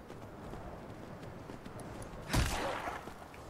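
Horse hooves clip-clop in the video game Skyrim, a soft, steady patter under background ambience that swells into a louder, brief burst of hoofbeats near the end.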